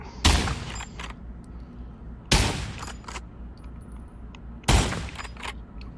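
Three sharp rifle shots from the VR shooter Pavlov, spaced about two seconds apart, each a loud broadband crack with a short ringing tail, close and clear with no talking.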